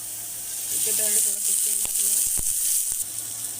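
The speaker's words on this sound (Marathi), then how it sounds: "आपण आता त्यासाठी काही मसाले भाजून घेऊया तर सर्वप्रथम आपण यामध्ये कांदा" Onion and spices dry-roasting in a pan for a drumstick (shevga) vegetable dish, giving a steady close hiss and sizzle with a few sharp clicks near the end.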